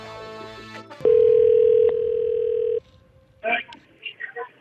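A telephone dial tone sounds steadily for about two seconds after a click, then stops as faint electronic tones and a distant voice follow.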